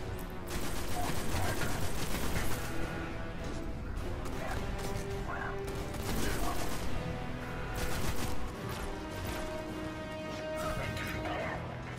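Heavy sustained gunfire in the Destiny video game on Xbox One, a dense continuous fusillade of shots and crashes lasting throughout at a steady loud level.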